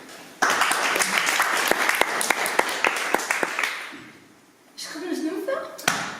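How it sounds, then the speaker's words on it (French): An audience applauds at an improv cabaret evening, with a burst of clapping mixed with sharp taps and thumps for a few seconds. The clapping fades into quiet before a voice begins speaking. "Merci de l'applaudir."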